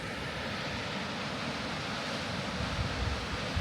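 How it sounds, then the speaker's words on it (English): Waterfall cascading into a rocky gorge, a steady broadband roar of falling water that stays constant and fairly distant, with gusts of wind buffeting the microphone. "I'm amazed by waterfalls how much noise they make"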